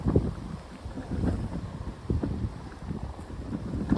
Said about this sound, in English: it's super windy, Cindy.